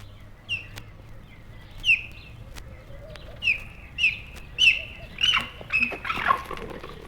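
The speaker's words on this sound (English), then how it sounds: "When excited, they call in this strange, bird-like way." A cheetah gives a series of short, high chirping calls that sound strikingly bird-like, repeated about eight times at irregular intervals. The chirps are clear and fairly close over a low background rumble, and no one is speaking.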